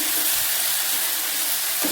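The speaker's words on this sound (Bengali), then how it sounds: "একটু ভালো করে ভেজে নেব" Fish frying in a pan with mustard and poppy seed paste gives a loud, steady sizzle with close hissing crackle throughout and no talk.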